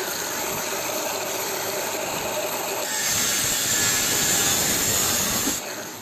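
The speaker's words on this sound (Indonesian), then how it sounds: "Selanjutnya langsung kita buat untuk coakannya menggunakan gerinda tangan. Kita potong menyilang seperti ini." Hand angle grinder cutting crosswise through a lightweight steel hollow tube, a steady hissing, rasping whine that grows louder and harsher midway, then eases off near the end, close and alone.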